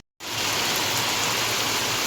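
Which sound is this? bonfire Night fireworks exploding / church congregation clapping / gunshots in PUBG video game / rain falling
rain falling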